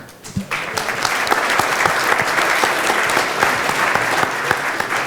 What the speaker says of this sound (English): You can keep that applause going